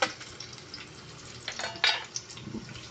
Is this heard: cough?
no